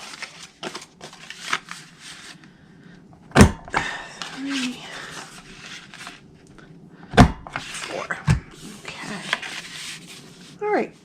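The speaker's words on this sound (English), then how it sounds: "Now we're going to take the corner rounder on the Detail Trio Punch and round all 4 of the flap corners." Several sharp paper punch clunks from a Detail Trio Punch corner rounder rounding the four flap corners of cardstock for a foil Easter egg treat holder, spaced a few seconds apart, near and crisp, with someone talking between them.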